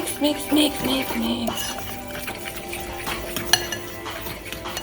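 Batter of flour and non-dairy milk being mixed in a bowl, a steady close scraping and sloshing stir with occasional utensil clinks against the side.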